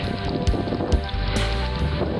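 Steady winter wind roars and buffets a microphone outdoors in a park, a constant low rumble with a few gusty bursts throughout.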